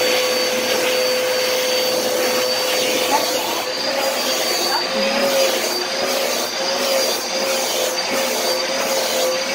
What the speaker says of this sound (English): Let's vacuum this kitty cat.